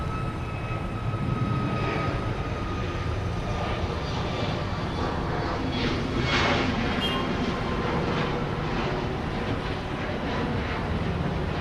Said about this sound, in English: So this plane will be taking off on 13 right